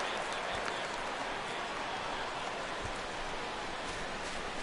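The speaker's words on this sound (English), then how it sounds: "This crowd oohs and ahs every time this guy hits a fly ball." Crowd noise at a San Francisco versus Los Angeles Dodgers baseball game in MLB The Show 16 after a fly ball to center field, a steady, dense wash of distant cheering and murmur with no single voice standing out.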